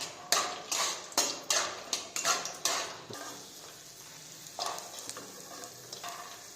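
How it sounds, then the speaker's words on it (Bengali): Peanuts fry in a little oil in a kadai (wok): a few sharp spatula clinks and scrapes in the first seconds, then a soft, steady close-up sizzle with occasional stirring, and no talking. "প্রথমে কড়াই একটু তেল দিয়ে বাদামগুলোকে ভেজে নেব"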